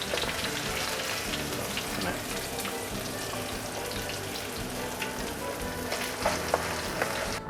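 Steady crackling sizzle of salmon belly frying in a hot pan, dense popping spatters throughout with no talking.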